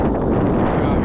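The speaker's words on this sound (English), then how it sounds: "It's a little windy out" Steady, loud wind buffeting over open water from a small boat with an electric trolling motor, a broad continuous roar with no breaks and no talk.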